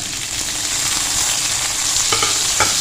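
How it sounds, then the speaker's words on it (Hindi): Salted green chillies fry in hot oil in a pan for an instant pickle, giving a loud, continuous hiss and crackle close up, with a few soft stirring knocks near the end and no speech. "अब हमने इनको फ्राई कर लिया।"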